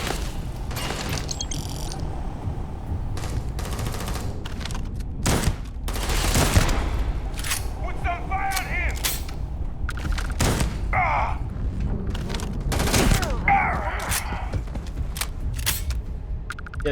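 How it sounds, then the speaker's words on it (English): Shotgun fire in the space game Starfield, a run of loud, sharp blasts at irregular intervals over steady game ambience and effects, with no talking. "shotguns are amazing in this game"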